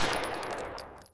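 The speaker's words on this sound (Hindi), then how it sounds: "एक नमस्ते और अगले ही पल गोलियों की बौछार" A rapid burst of gunfire from a revolver and a Sten gun in a 1984 assassination at gate number 1, dense and continuous for about a second before tailing off, with no voices.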